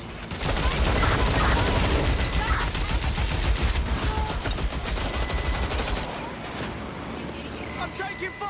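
Rapid gunfire crackles in the video game Watch Dogs Legion, with dense, overlapping shots and mechanical clatter for about six seconds before thinning out, and a voice mixed in.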